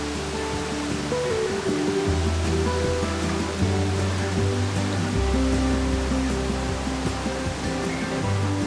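Steady, dense rushing water fills the clip without a break, a broad roar like a waterfall heard from close by, with no voices, at Scale Force waterfall near Buttermere.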